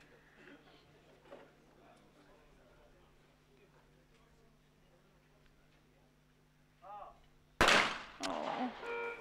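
A single loud shotgun blast cracks out in a men's ISSF trap shooting final at an outdoor range, preceded by quiet ambience and a commentator talking over it.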